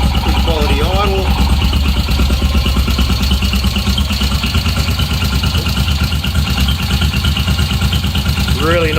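Royal Enfield Himalayan motorcycle fitted with a Himalayan Tools HT-b performance camshaft and aftermarket exhaust idles close and loud with a steady rhythmic thump after starting, someone talking over it.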